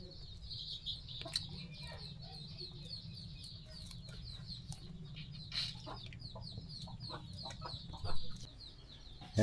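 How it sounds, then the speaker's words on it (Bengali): A hen clucks in short, scattered bursts, fairly close, over a steady low background rumble, with faint chirps mixed in. "এই মুরগি, কেউ কেউ করিস না"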